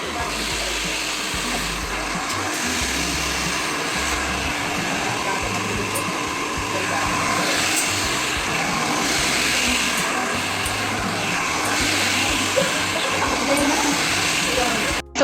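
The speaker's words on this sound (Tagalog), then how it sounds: "Tapos yan, i-blower na ang aking hair" A hair dryer blows steadily and loudly on hair during a home grooming routine, a continuous rushing hiss that holds for about fifteen seconds with no pauses.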